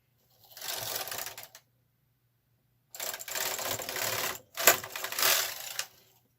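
Brother KH230 knitting machine working intarsia, its carriage making three close, loud mechanical clattering passes with brief pauses between them, no voices.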